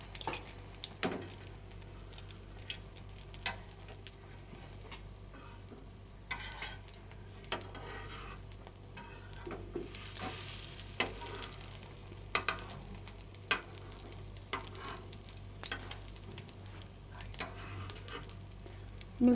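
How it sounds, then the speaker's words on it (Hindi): Shami kabab patties frying in very hot ghee over a low flame give a soft steady sizzle, with scattered light pan taps and stirring scrapes in a quiet kitchen, no talk. "तेज़ गर्म घी में बिल्कुल लो फ्लेम पे हम इसको पकाएंगे।"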